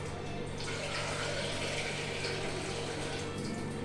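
Steady running water pours continuously into cooked moong dal for several seconds, a close, even splashing stream with a low hum underneath.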